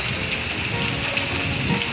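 Steady rain falling in a storm in Udon Thani, Thailand, heard as a continuous dense hiss of drops with no talk.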